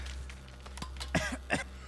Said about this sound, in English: Coughed anyway